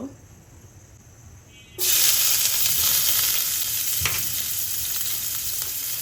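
Chopped onion drops into 1 to 2 tablespoons of hot oil and bursts into a loud, steady sizzle after a quiet start, with a few soft stirring knocks under the continuous frying hiss.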